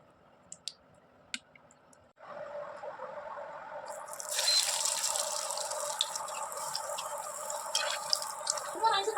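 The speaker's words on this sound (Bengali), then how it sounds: "কড়াইতে তেল দিয়ে দিলাম।" Cooking oil goes into a wok for frying chicken chops. Faint clicks come first, then a steady, bright hiss of liquid builds and keeps going, close and continuous, with no speech over it.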